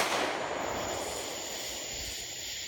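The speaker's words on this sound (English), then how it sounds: "Those mortars don't ever sound like that in real life." Pyro mortar fireworks bursting on the Fourth of July, a loud crackling wash that peaks at the start and then fades into a sustained fizzing rumble at a distance, with no talking.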